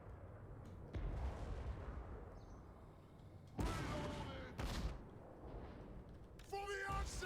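Dwarf cannons fire in a fantasy battle video game, with several heavy booms spaced a second or more apart over a constant roar of battle noise.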